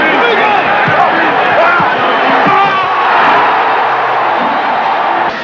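Madison Square Garden crowd roars loudly after Patrick Ewing's emphatic Knicks slam dunk against the Bulls, a dense sustained cheer lasting several seconds with shouts rising through it.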